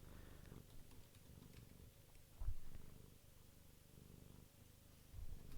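A cat purrs close to the microphone in a steady, low rumbling rhythm, quiet and continuous, with a couple of brief soft bumps along the way.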